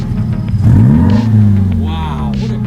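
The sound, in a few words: car revving with new aftermarket exhaust at a car meet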